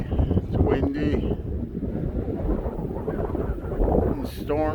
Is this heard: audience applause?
no